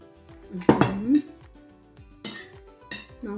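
Stir-fried pork with bamboo shoots and black pepper is spooned over rice, with close clinks and scrapes of a spoon on a plate and a pan in a few short bursts, and a brief voice in between.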